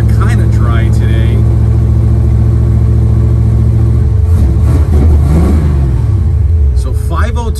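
A 1969 Chevrolet Camaro with a 502 V8 and five-speed manual rumbles steadily up close, a deep low drone that swells with a revving pass near the end, with a voice speaking over the engine.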